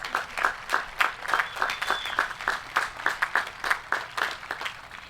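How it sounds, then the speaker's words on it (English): A high school graduation audience claps in bursts of applause, with rhythmic, uneven waves of hand claps and some cheering, moderately loud and fairly close, no talking. "Can we give them a huge round of applause?"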